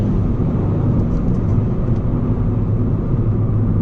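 A Ford Fiesta ST with a Mountune tune pulls hard in second gear from low revs, a steady, loud engine roar that builds continuously without a break.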